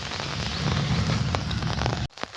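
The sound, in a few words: light drizzle rain falling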